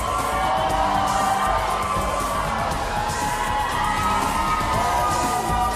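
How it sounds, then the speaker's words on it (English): Raucous arena crowd cheering before a basketball game at the Delta Center, a loud, continuous roar of voices and whoops swelling and easing without a break. "As you can tell, it is a raucous crowd."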